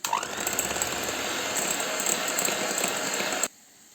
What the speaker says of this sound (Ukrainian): Беремо два яйця, до яєць додаємо цукор, ванільний цукор і збиваємо